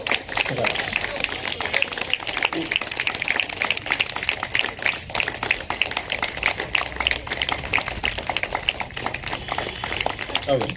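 Continuous applause from an audience fills the room, a dense, even patter of many clapping hands, with talking layered on top.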